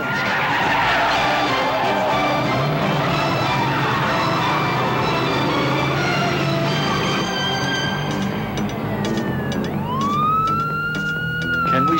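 A car floors it during a chase, tires skidding and squealing loudly over a roaring engine, with a siren-like wail rising near the end.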